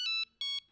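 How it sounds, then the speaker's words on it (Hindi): An electronic phone ring sounds in two short bursts, each made of bright warbling tones, with a brief pause between them. "हाँ नटू काका, इतनी रात को फोन क्यों किया?"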